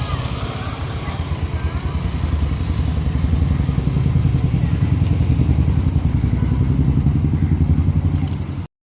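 A motorbike engine runs steadily with a loud, close, rapid putter and rattle throughout the ride, then cuts off abruptly at the end.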